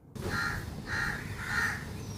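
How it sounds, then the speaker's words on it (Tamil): A thirsty crow caws three times in an even rhythm in a children's story, each call clear and fairly close over a quiet background. "சந்தோஷமாக அந்த காக்கா பறந்து போயிடுச்சு"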